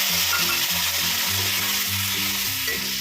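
Ground spices and tomato hit hot oil with already-fried potatoes for a katla fish curry, giving a loud, continuous sizzle with stirring scrapes throughout and a faint tonal hum underneath.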